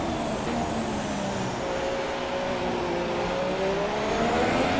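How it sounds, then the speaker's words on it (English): Formula 1 car engine at full throttle in the F1 2017 racing game at Abu Dhabi, a steady loud high-pitched whine with rising harmonic tones throughout, no talking. "Now I go full throttle."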